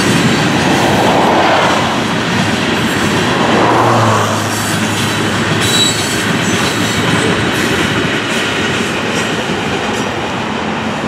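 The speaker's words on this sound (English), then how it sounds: "Train is a rock train." A freight train carrying rock passes close by, loud and steady, with wheel squeal and rail noise throughout.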